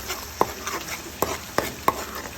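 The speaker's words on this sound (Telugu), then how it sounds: "ఇంకో పక్క కడాయి పెట్టుకొని నూనె వేసి, కొంచెం నూనె వేసి ఊరి పెట్టుకున్న మసాలాని వేయించుకోవాలి." Marinated masala fries in a little oil in a kadai, giving a steady sizzle while a spoon stirs it, with several distinct scraping knocks against the pan at irregular intervals.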